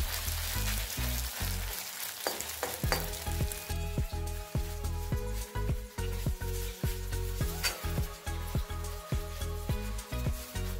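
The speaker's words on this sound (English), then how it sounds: "Now add oil and then fry the marinated soyabean." Marinated soyabean chunks fry in hot oil, a constant sizzle cut by a long run of regular, sharp knocks and scrapes of a utensil against the pan, near and moderately loud, with no voices.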